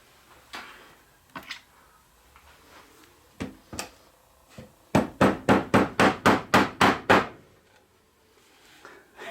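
A hammer taps a part into a snug fit, first with a few scattered knocks and then a quick run of about ten sharp, evenly spaced strikes close by.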